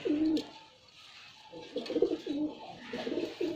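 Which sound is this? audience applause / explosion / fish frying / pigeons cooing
pigeons cooing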